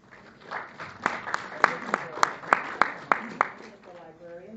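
Audience at a community meeting on the Toronto budget breaks into a burst of clapping, sharp hand claps rising to a peak then tapering off, with a voice briefly heard at the end.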